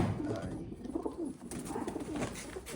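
Pigeons coo in low, soft, repeated rolling calls, close by, with light background rustle throughout.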